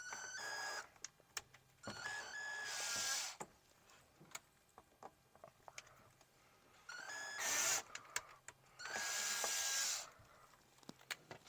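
A self-tapping screw being driven to start holes while mounting a storage box on a Can-Am Maverick, heard as short whirring bursts from a power driver with clicks and handling noises between them, close and fairly quiet.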